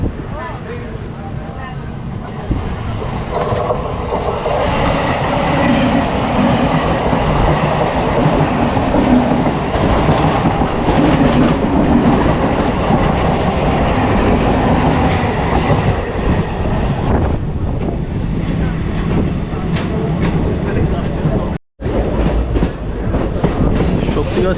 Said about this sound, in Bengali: ওদিক থেকে বর্ধমান হাওড়া লোকাল আসছে